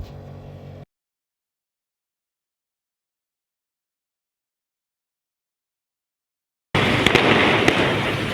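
Firecrackers at a baby-naming ceremony crackle and pop loudly in dense bursts, breaking off into silence and then starting up again just as loud.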